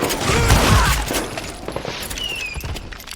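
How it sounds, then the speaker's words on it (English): Gunfire in the Western shooter video game Call of Juarez: Gunslinger: a loud burst of overlapping shots and booms, then scattered cracks and debris over a busy game soundscape. "Watch where you're shooting!"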